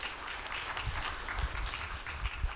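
An audience applauding a filmmaker after a conversation event, a short burst of steady clapping at moderate volume, with no talking.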